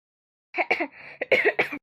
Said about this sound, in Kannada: ಯಾಕೋ ಕೆಮ್ಮಂಗಾಯ್ತು